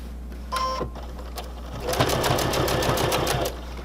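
A sewing machine stitches a narrow eighth-inch seam in fabric in two close bursts of rapid, even mechanical chatter, the second longer and louder. A low steady hum runs underneath.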